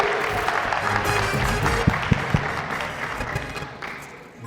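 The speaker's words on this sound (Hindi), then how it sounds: "बहुत सारी तालियां होनी चाहिए फरहान साहब के लिए।" A TV game show studio audience bursts into dense applause for a contestant, loud and continuous at first with a few sharp claps standing out, then tapering off toward the end.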